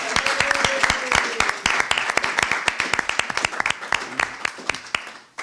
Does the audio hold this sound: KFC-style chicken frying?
no